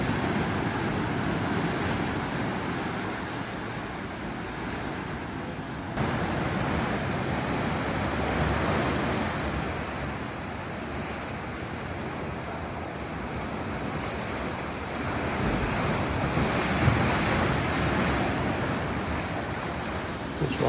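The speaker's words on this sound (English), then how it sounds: "Eventually there is some water come up through there when the wave hits." Ocean waves surge into a collapsed sea cave blowhole on the Tasmanian coast, a continuous rushing wash of surf with swells building and easing over about twenty seconds, heavy wind buffeting the microphone throughout.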